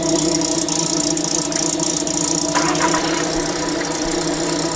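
A supercharged MG car engine runs loud and close while driving, a steady mechanical drone with belt whine and rattling, continuous throughout with no talking.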